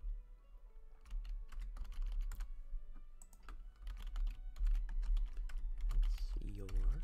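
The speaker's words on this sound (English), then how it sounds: "Sorry about the typing if you can hear that." A computer keyboard is typed on during a live Pokémon Let's Go Pikachu shiny-hunting stream, with clusters of close, crisp key clicks in irregular bursts. A voice speaks briefly near the end.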